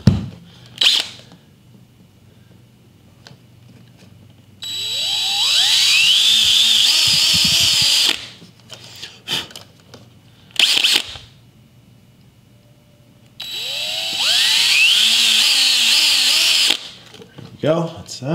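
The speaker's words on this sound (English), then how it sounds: "we're gonna drill our little pilot holes." A power drill bores pilot holes into a boat for a trolling motor plug and receptacle, two loud whirring bursts of several seconds each with pitch sweeping as the motor spins up, separated by quiet handling clatter.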